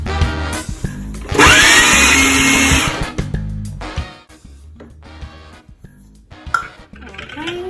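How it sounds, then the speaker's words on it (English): A kitchen blender whirs loudly for about a second and a half as it purees garlic, salt and jalapeno for a cilantro yogurt sauce, then cuts out, leaving clatter and quiet handling sounds. "we're going to blend this up first before we put in the cilantro leaves."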